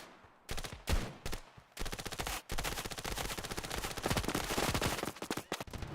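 SMG fire in the video game Standoff 2: a few short bursts, then long rapid strings of shots, dense, loud and close.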